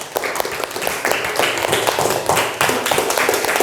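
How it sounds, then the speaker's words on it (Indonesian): A classroom of junior high students applauds a student group after its presentation, dense clapping from many hands that carries on steadily for a few seconds. "Tepuk tangan untuk kelompok 3."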